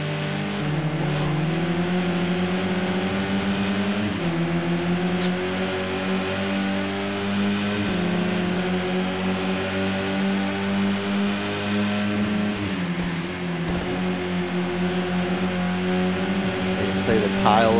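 BTCC touring cars with front-wheel drive and air restrictors racing at Oulton Park in a racing simulator, a loud continuous engine roar with repeated gear-shift pitch drops, and commentary heard over it.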